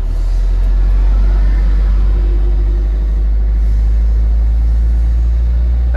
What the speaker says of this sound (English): Accelerate more now.